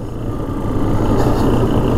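A Honda Foreman 400 ATV engine running on a test drive: a steady low rumble with a gently rising drone, close and continuous, without talk.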